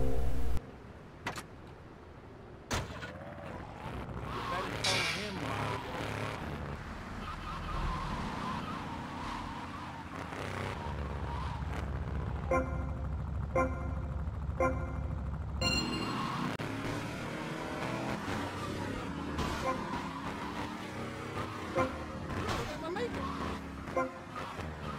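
A car speeds through the streets of GTA Vice City during a street race, with engine drone, horn toots and passing sirens, while someone talks over it.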